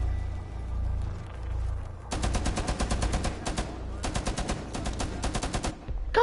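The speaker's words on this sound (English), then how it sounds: "What kind of freaking gun was that?" Rapid automatic gunfire from a gun in Rainbow Six Siege, loud and close, in two sustained bursts of fast shots after a quieter stretch of low rumble.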